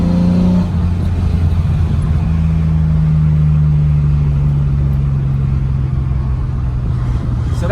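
Car engine fitted with Weber carburettors winding down through a long deceleration, a steady low rumble with a falling tone and no popping, heard close from inside the vehicle.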